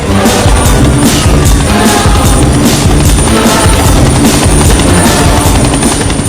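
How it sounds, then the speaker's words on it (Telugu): A helicopter sounds loud and close, its rotor beating in a continuous rhythmic chop over a dense engine roar for the whole stretch. "helicopter sound"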